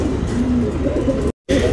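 Tournament pigeon cooing close by in a loft in Bangalore, a soft steady low coo with a brief break near the end before it resumes.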